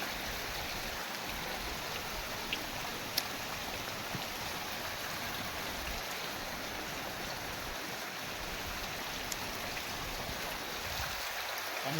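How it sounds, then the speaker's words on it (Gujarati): Light, gentle rain falls steadily, a soft even hiss of drops spread across the whole stretch with a few faint clicks and no voices. "આવો વરસાદ ચાલુ છે, ધીમો ધીમો આવે છે."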